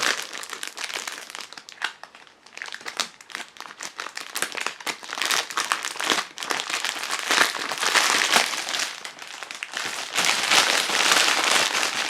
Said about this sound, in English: let's go ahead and untie the wire keeping the clear plastic bag closed